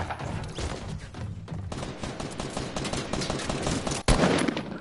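Dense gunfire in a Fortnite-style shooter video game, with rapid overlapping shots and bursts running throughout, close and loud, and a sharp louder blast near the end.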